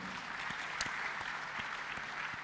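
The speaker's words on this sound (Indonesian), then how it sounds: "Tepuk tangan Bapak Ibu." An audience at the Wealth Wisdom 2023 seminar claps in a steady, fairly distant wash of applause that holds evenly for a couple of seconds.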